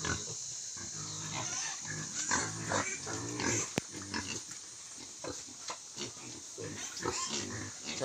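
Piglets on a farm in the Philippines grunt close by, a string of short, repeated oinks that come steadily one after another.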